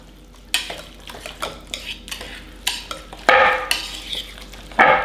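A spoon stirs corn pudding ingredients with parsley in a bowl, giving repeated irregular scrapes and clinks against the sides, close and fairly loud, with no talking.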